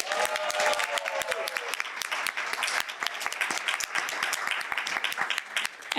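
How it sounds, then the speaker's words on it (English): Applause from a conference audience after a musical performance, a dense burst of many hands clapping steadily throughout, with a brief voice or tone at the start. "Can we have one more round of applause for Hassan's talent?"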